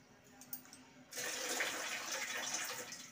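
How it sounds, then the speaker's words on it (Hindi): Tap water pours steadily into a kitchen sink basin piled full of dishes, a continuous splashing hiss that starts abruptly after a second of quiet clinks and carries on to the end. "पानी भी इसमें आ रहा है, तो धो लेती हूँ बर्तन फटाफट।"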